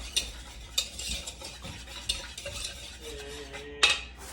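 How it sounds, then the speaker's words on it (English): Butter melted and mixed with sugar in a bowl gets stirred, a utensil scraping and clinking against the sides in a few distinct close taps, with a louder knock near the end. "we're going to add 1/4 of a cup of sugar, and we're going to stir that around."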